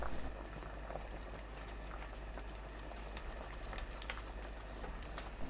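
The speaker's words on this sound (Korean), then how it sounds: "그대로 8분 끓입니다." Broth for a potato-and-pork-bone-style stew with potatoes simmers in a pot, a steady close bubbling and sputtering with scattered pops, continuous and alone without talk.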